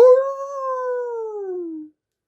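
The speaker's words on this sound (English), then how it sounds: "the sound of wolves howling at the moon" A lone wolf howls in a long, clear, falling note that tapers off after about two seconds, then silence, with nothing else around it.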